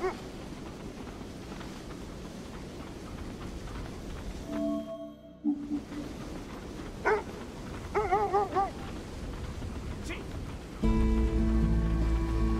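Dogs in the video game Kona II: Brume bark and yip over a steady wind-and-rain ambience, with a few short barks scattered through, then a sustained tone near the end.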